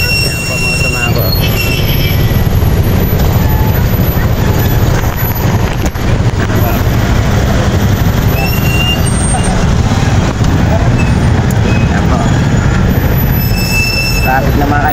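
Dense road traffic heard from inside a vehicle, a loud continuous rumble of engines and tyres with occasional squeals and hiss, steady throughout the stretch.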